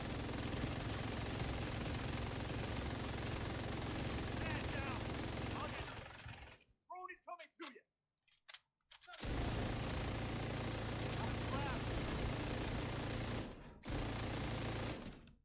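Sustained rapid automatic gunfire rattles on in The Division 2, loud and continuous, breaks off for a few seconds of scattered shots and clatter, then resumes in long bursts with one more brief gap.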